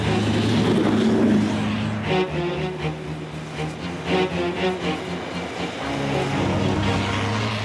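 A car drives across Arctic ice toward the North Pole, its engine a steady loud low drone throughout with rumbling, bumping bursts from the rough surface partway through; no voices.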